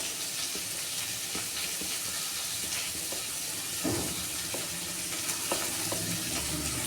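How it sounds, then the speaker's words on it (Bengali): Onions, green chilies and garlic frying in a pan for a tomato mash dish, a continuous close sizzle with occasional crackles and stirring scrapes, no speech. "পেঁয়াজটা ভেজে নিই,"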